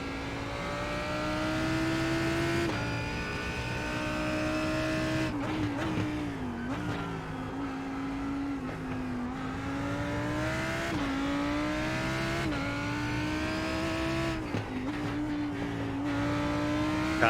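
A GT race car engine at Brands Hatch in a sim racing game, a loud steady drone that rises through the revs and drops sharply at each gear shift, heard alone without talk.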